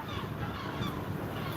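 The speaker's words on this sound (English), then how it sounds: "This flock of seagulls is flocking around here." A flock of seagulls calls over the Bosphorus in Istanbul, its honking cries blending into a dense, steady wash of outdoor noise with no clear pauses.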